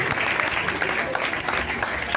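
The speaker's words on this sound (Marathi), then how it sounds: "टाळ्या वाजवायला" An audience at a Marathi devotional folk gathering claps together in a steady, close, fairly loud patter, with crowd voices mixed in underneath.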